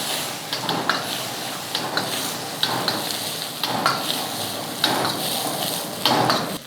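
Food sizzles loudly and constantly in a wok over a high flame in a restaurant kitchen, while a metal ladle stirs and scrapes it in repeated knocks, close and with no talk.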